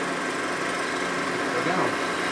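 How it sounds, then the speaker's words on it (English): A tool rubs lightly inside the cylinder of a Harley-Davidson Sportster 1200 Ironhead engine, a steady, dense scraping hum that continues without a break at close range. "You actually hear it rubbing a little bit."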